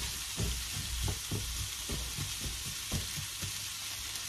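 Chopped potato and ham frying in a pan over full heat, a dense steady sizzle broken by soft stirring knocks, close and continuous with no talk.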